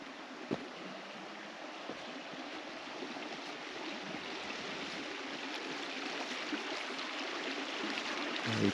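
Steady broadband rush of a river flowing past a campsite in the mountains near Silverton, Colorado, continuous and fairly close, with no talk over it.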